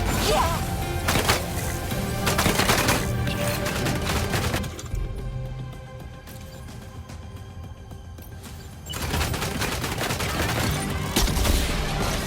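Gunfire volleys crack and rattle in the video game Death Stranding 2, dense bursts of shots for several seconds, a quieter lull, then heavy firing resumes, loud and close.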